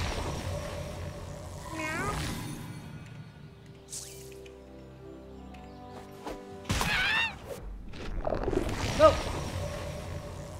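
In the South Park: The Fractured But Whole video game, a cat meows in a few short, drawn-out calls spread apart, close and fairly clear, alongside wet squishy noises.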